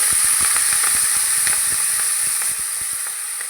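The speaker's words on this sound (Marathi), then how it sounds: "आता मी लसणाचा तडका माझा देऊन झालेला आहे मी त्याच्यामध्ये भाजी टाकणार आहे" Vegetables hit a hot garlic tempering, giving a loud, steady hissing sizzle close up, with faint clicks scattered through it, gradually easing slightly toward the end.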